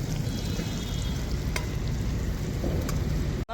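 Onions stirred and frying in a pan with green chillies about to join them, cooked alongside lorry drivers; a steady, close sizzle and crackle runs throughout with occasional scraping clicks and no talking.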